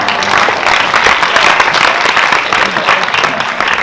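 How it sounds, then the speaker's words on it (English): A sympathetic round of applause from an audience at a Chopstix event, dense steady clapping filling the whole stretch at close range, with voices mixed in. "Give him a sympathetic round of applause for last time."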